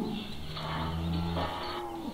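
A cow in a farm barn gives a drawn-out moo that is close and clear, with a low droning tone that falls away at the end. No one speaks over it.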